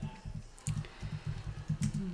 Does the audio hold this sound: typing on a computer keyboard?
yes